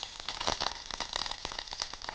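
Mustard seeds and fenugreek sizzle in hot oil, a faint, dense crackle of quick pops and spits running continuously without speech.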